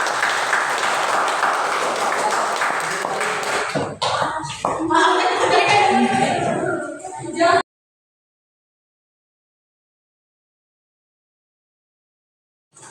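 A classroom of students applauds a presenting group during a peer-teaching session, dense clapping with voices for about four seconds, then a rougher burst of claps and chatter before it cuts off into silence.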